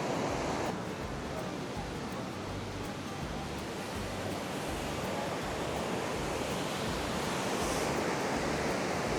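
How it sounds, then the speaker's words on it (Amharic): Ohiopyle Falls, a waterfall in the USA, gives a steady, loud roar of rushing water that fills the whole scene without letup, with no clear voices above it. "የሚያምር ፏፏቴ ነው እና ከፏፏቴው ላይ ነኝ ያለሁት እላችኋለሁ"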